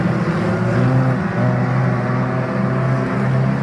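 A junior sedan race car at a speedway holds its engine steady at high revs against the rev limiter, a loud, continuous buzzing drone with no pauses and no voices.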